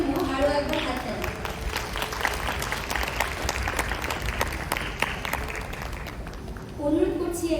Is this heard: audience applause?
yes